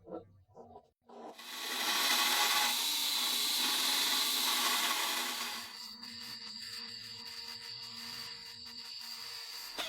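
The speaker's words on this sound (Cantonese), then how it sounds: "之後就用到把銼同埋砂帶機，將錘仔表面嘅瑕疵通通搞乾淨" A belt sander smooths the surface of a hammer head cast from copper coins, a loud sustained grinding whine that starts abruptly after a few faint knocks, then gives way to a lower, quieter mechanical hum.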